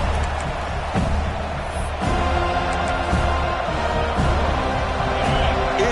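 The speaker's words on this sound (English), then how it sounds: "It's early, but this crowd is fired up. Listen to this noise here." A packed football stadium crowd roars early in a game, a dense, continuous wall of cheering and noise that holds loud and steady throughout, with a commentator talking over it.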